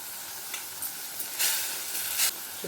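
Tomato with ginger garlic paste fries in a pan for a spicy egg curry, giving a soft, steady sizzle with a few brief, brighter bursts of hiss.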